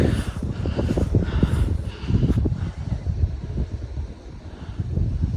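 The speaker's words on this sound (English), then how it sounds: "Nice and sunny, but super windy." Strong, gusty wind blows outdoors on a sunny farm, buffeting the microphone with low, uneven rumbling bursts that rise and fall throughout, with no voices.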